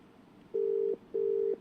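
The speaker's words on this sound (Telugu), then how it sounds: "ఆ ఫోన్ రింగ్ అవుతూ ఉంది." Ringback tone of an outgoing phone call to a politician's number, heard as two steady, even tones of about 0.4 seconds each, separated by a short gap, over a faint background hum.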